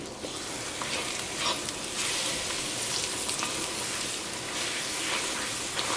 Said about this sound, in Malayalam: ആ നെയ്യിലിട്ടിട്ട് ഇതേപോലെ നന്നായിട്ട് ഇങ്ങനെ വരട്ടിയെടുക്കണം